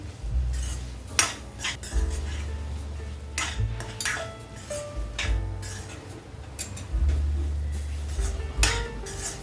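A thick carrot mixture for sweet vadi is stirred in a steel wok, with a steady run of metallic scrapes and clinks from the spoon against the pan, close and fairly loud and without any talk.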